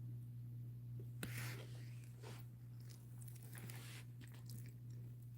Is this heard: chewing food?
yes